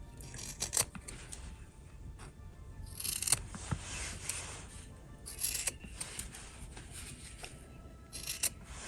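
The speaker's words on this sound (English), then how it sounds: "you go and cut the extra away" Scissors snip away excess fabric at the sewn corners of a cloth bag, a few close, quiet cuts and rustles spread across the quiet stretch.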